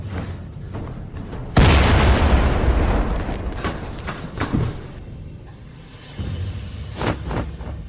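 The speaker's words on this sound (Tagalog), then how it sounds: "Sobrang laganap ng pagsabog dito, hindi ako makalabas." A sudden loud explosion booms inside a multi-storey building, followed by a long rumbling decay and scattered crashing debris, with later thuds trailing off.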